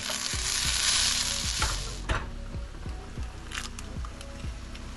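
Hash browns frying in a pan on a boat, a steady close sizzle with repeated scraping and clinking of a utensil against the pan, no talking.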